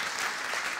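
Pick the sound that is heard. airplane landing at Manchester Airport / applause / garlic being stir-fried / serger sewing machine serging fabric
applause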